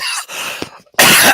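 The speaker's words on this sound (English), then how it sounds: "Dang, still coughing." A man coughs hard into a close microphone: a couple of harsh, raspy bursts, a short pause, then a final loud, forceful cough.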